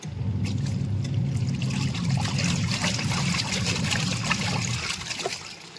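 A washing machine running at home with water splashing and trickling inside the drum after detergent is added, a steady low churning hum under a continuous watery wash, fairly close.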